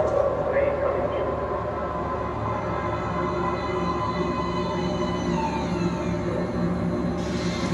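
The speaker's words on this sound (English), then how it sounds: "Please step away from the edge of the platform. Train coming in." A subway train pulling into an underground platform in the video game Metro Last Light, a loud, sustained rumbling roar with metallic rattle and wheel squeal, steady throughout, with game sounds layered over it.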